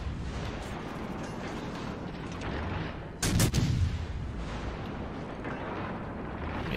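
Ship's guns fire a single test salvo in World of Warships Legends from a German destroyer, a loud booming burst about midway through over a constant rushing sea and engine drone.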